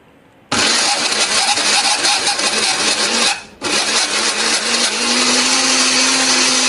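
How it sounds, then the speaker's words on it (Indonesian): An electric blender grinds a spice paste of candlenut, turmeric, pepper and coriander with a little water, starting abruptly, running loud and steady, dipping briefly, then continuing with a constant whirring roar. "Nah, ini akan kita haluskan menggunakan blender, beri sedikit air ya supaya lebih gampang untuk menghaluskannya."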